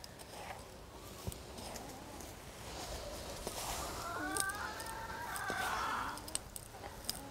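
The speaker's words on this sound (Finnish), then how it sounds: "Meillä on ollut parhaimmillaan tässä pihapiirissä vapaana siis 10 emoa ja saattaa olla niin kuin 4-12 tipua aina per emo." Free-range hens with their chicks clucking and calling in a farmyard, a steady murmur of soft clucks with a louder rising call near the middle, heard fairly close with no one talking.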